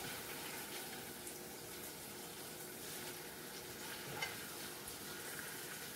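Tilapia fillets fry in a pan with a steady, faint, hissing sizzle throughout and a small pop partway through.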